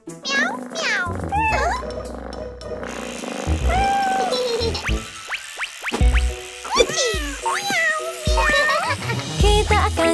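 Sung voices in an Indonesian children's song imitate a cat's meows, with repeated rising and falling meow calls over a steady musical backing throughout.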